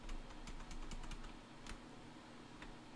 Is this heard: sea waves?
no